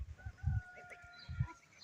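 Backyard chickens let out in the morning give a few low, soft clucks in two short bursts, heard fairly near against a quiet outdoor background with faint bird calls.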